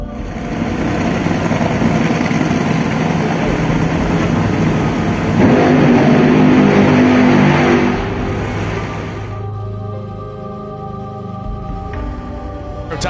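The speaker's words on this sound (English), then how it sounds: "Top Fueler is fired up" A Top Fuel dragster engine roars at an NHRA drag strip, a loud, dense, sustained blare that swells around the middle, then cuts to a lower, rougher idle with crowd and track noise.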